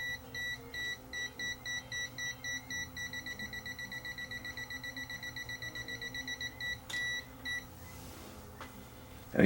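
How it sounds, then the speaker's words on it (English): A KAIWEETS non-contact voltage detector held near wires beeps in a rapid, steady string of high electronic tones, close and clear. The beeping falters near the end and then stops. "get near wires, and the non-contact voltage detector will start to beep"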